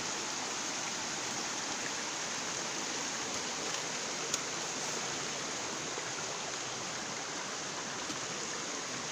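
Water flows steadily down a forest gully just after rain, a dense, even rushing wash heard close and unbroken throughout, with no voices.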